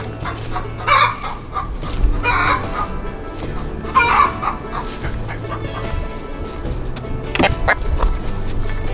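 A hen in a homestead coop clucks and squawks repeatedly in agitated bursts, close by, with other fowl and a dog barking faintly in the background over a busy, noisy scene.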